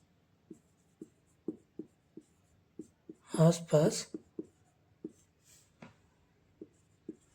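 A pen writes numbers on paper during a square-root lesson, with a string of short, quiet, evenly spaced taps and strokes, interrupted midway by a brief burst of speech.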